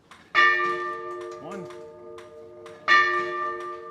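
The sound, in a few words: Seth Thomas clock bell chiming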